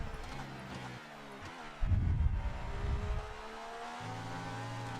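A historic Ferrari racing car in the video game F1 2019 on the Austria circuit, its engine droning with shifting pitch, rising into a louder burst of revving before settling back to a steady tone.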